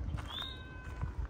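A cat gives a short, thin meow with a falling pitch, faint and close, over soft scuffling and footstep-like thumps.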